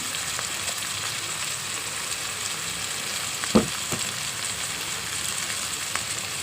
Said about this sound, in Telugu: ఇప్పుడు టమాటా ముక్కలు వేస్తున్నాం చూడండి